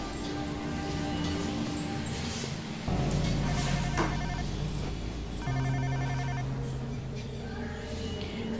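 A telephone rings in repeated bursts over steady background music, the tone pausing and resuming several times.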